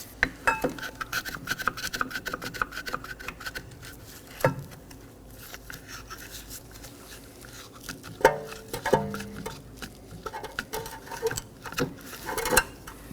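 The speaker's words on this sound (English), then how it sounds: "Now I'm going to push in my brake caliper piston using a brake caliper piston compressor tool." A brake caliper piston compressor pushes the piston back into a rear caliper of a 2015-2023 Nissan Maxima, heard as dense close ratcheting clicks and metallic clatter that continue without a break, with no talking.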